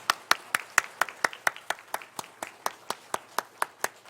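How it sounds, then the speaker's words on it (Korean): Clapping at a church's New Year's Eve service as midnight arrives: a steady, rhythmic run of about seventeen evenly spaced claps, crisp and close, fading slightly toward the end. "우리에게 새해를 주신 하나님께 감사의 박수를 영원 돌리겠습니다"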